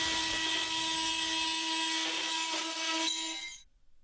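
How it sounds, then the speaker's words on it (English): Bosch GOP 250 CE oscillating multitool cutting through laminate, a harsh, high buzzing whine held steady for about three seconds, then cutting off abruptly into silence. "Use it for cutting the laminate as well."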